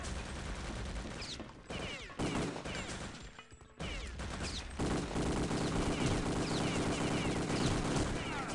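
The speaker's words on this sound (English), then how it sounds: "A lot of nades getting thrown about. More nades getting thrown out." Heavy gunfire and grenade blasts crash through a Return to Castle Wolfenstein firefight, dense bursts and explosions dropping out briefly near the middle before resuming loud and continuous.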